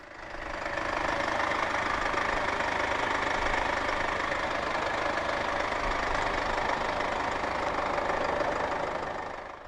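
A 2016 Mercedes-Benz B 200 d Sport diesel engine idles steadily and evenly, a close, continuous rumble with light diesel clatter and no talk.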